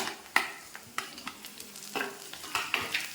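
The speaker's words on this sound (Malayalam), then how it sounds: "നമ്മുടെ ഈ സവാളയും പച്ചമുളകും ഇഞ്ചിയും എല്ലാം ഒന്ന് വഴന്ന് വന്നിട്ടുണ്ട്" Onion, green chilli and ginger sautéing in a pan for a Kerala fish curry, with a soft sizzle under repeated clinks and scrapes of a spoon stirring at close range.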